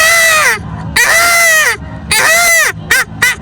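A voice imitates a peacock call with several loud, harsh, nasal cries in a row, each sliding downward, the first two long and the last ones short, close and alone.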